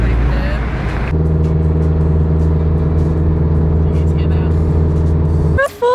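Exhaust of an FRS/BRZ/86 sports car with modified exhaust mods, a loud, steady droning rumble at idle or low revs after a brief rev, close by and continuous for several seconds.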